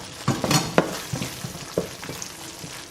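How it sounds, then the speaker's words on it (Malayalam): Lentil gravy being stirred in a pan, with a run of separate scraping and clinking strokes against the metal, close up and fairly loud over a low bubbling background, with no one talking. "അതിനുശേഷം ശരിക്കും ഒന്ന് മിക്സ് ചെയ്യാം"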